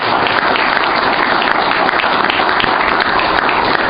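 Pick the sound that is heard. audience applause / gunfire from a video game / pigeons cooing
audience applause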